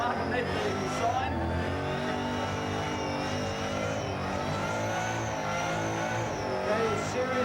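A powerful car engine screams at high revs during a Summernats burnout competition, steady and loud, with crowd or commentary noise mixed into the roar.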